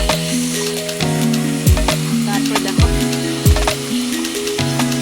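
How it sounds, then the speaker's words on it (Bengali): Leafy greens (saag) fry in a hot pan with a steady, loud sizzle and the scrape of stirring. Tonal background music plays underneath, and a voice speaks briefly. "শাক ভাজাটা বসিয়ে দিলাম, শাক ভাজাটা করে নেব"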